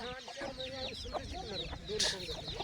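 Free-range country chickens and chicks cluck and chirp close by in a short, busy burst of overlapping calls.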